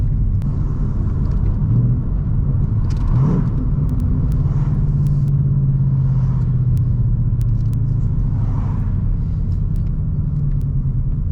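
A car engine with a completely stock exhaust rumbles at a steady idle with a deep, low drone, close by, with a few faint light clicks and no talking.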